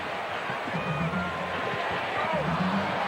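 Basketball arena crowd at a 1991 NBA game between the Celtics and Suns, a steady murmur of thousands of fans reacting to a jump shot, with a commentator talking over the broad roar.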